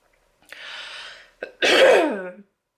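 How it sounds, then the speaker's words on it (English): A few harsh throaty bursts close to the mic: a short hacking cough, a brief catch, then a longer rough cough fading out. "coughing again, I'm slowly dying"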